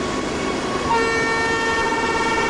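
The BBS Rajdhani Express in Train Simulator blows its horn near a level crossing, a sustained, steady tone that starts about a second in and holds over a low rumble of the moving train.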